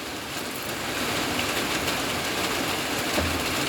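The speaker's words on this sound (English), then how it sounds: "This is the most rain we got all summer long." Heavy summer rain pours steadily outside a house among trees, a dense, even hiss that fills the whole span without letting up.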